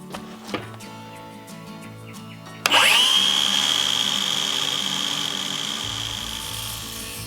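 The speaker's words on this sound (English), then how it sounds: "And I just got to cut a little bit off the end, and then should be ready to go." A saw cuts through a piece of leftover OSB board: faint scraping at first, then a loud, sustained harsh rasping from a power blade biting into the wood, held steady and fading slightly toward the end, no voices.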